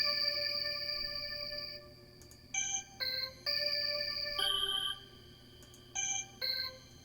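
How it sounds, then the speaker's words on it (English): A cricket-texture synth pad layer, playing steady high chirping tones with a low hum beneath, joined by short stepped tonal blips later on, soft and atmospheric. "So the first thing that I added is this cricket pad, which sounds like this."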